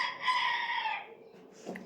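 A rooster crows close by in one long, loud call, followed by brief softer clucking from chickens.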